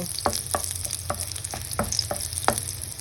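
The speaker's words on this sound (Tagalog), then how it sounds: "Ngayon magpapilibago tayo ng paggigisa para naman sa karne." Beef sautéing in a pan for afritada, a steady close sizzle with regular scraping stirs about twice a second, no speech.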